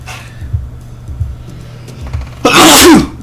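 A single loud sneeze bursts out near the end, following a stretch of quiet low rumbling background noise.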